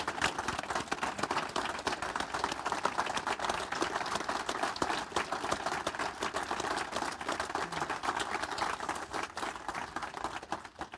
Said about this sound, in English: A lot of that applause is for having to put up with me.